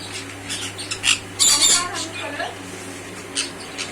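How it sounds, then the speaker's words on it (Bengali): Sun conures in pairs squawk in an aviary, sharp shrill calls in scattered bursts with one loud cluster, over a steady low hum and faint background chatter. "সব জোড়া জোড়া রয়েছে, একদম দারুণ কালারের সান রয়েছে"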